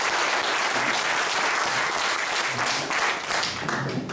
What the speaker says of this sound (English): So can we all give him a big round of applause?